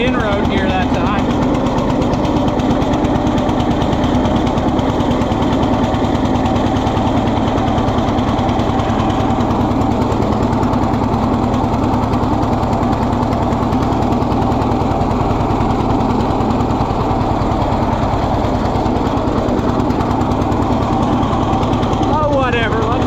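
A 1948 John Deere B tractor running in road gear, its engine a loud, close, continuous chugging throb with steady mechanical rattle and occasional voices underneath.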